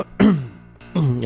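A voice imitates a character's coughing, giving two short, rough throat-clearing coughs close to the microphone with a brief pause between them.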